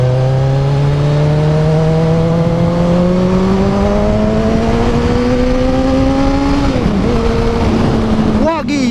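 A 2013 Kawasaki Z1000 motorcycle accelerates hard, its loud, close engine note climbing steadily through the revs, dipping briefly at a gear change and then rising again.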